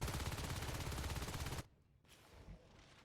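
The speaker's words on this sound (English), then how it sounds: "Okay, shotguns are out." Rapid shotgun fire in the Natural Selection 2 video game, a dense, loud barrage of blasts for about a second and a half, then a sudden drop to near quiet with one faint later thump.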